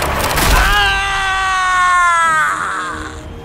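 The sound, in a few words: deep scream sound effect in horror audio story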